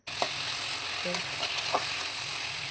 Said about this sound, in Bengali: দিয়ে পেঁয়াজ রসুন তেজপাতা দিচ্ছি, দিয়ে ভালোভাবে লাল লাল করে ভাজা করে তারপর টমেটো কুচি দিচ্ছি